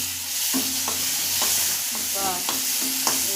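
Mixed vegetables cooking in a pan with a little cumin powder and other spices, a steady sizzle of frying broken by repeated scraping strokes of stirring and no talking.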